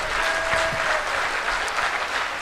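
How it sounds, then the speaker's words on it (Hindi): A crowd at a Hindi poetry recital applauds, a continuous broad rush of clapping that stays steady and fairly loud throughout, with no voices standing out. "एक बार तालियां और जोर से बजाइएगा फिर"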